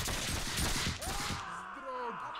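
Musket volleys during a siege in the game Mount & Blade With Fire & Sword, a dense burst of crackling gunfire that fades into a tonal background wash.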